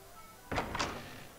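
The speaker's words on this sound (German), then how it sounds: "Klopf, klopf." Two quick knocks on a door in The Last Story video game, a close, dull double thud over a faint background hum.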